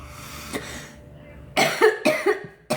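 A person coughs several times in a row, with harsh close bursts after a quieter cough and a pause.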